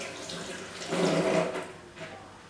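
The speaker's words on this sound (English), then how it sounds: "I'm going to be just pouring over all of that red stripe on the chicken." Red Stripe beer poured over chicken pieces: a soft, gurgling liquid pour that swells in the middle and trails off, close and fairly quiet, with no talking.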